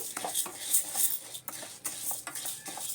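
Dal frying in melted ghee in a pan, with a metal spoon repeatedly scraping and clinking against the pan over a faint, steady sizzle, close and fairly quiet.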